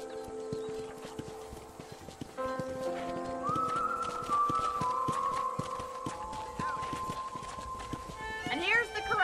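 Horses in a ranch corral in Red Dead Redemption, with hooves clopping and soft snorts under steady game music and chatter, and a short whinny near the end.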